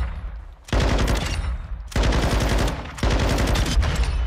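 Light machine gun from a new Meltdown bundle fired in a video game, three loud sustained automatic bursts of rapid, close gunfire, each a bit over a second long with short gaps between.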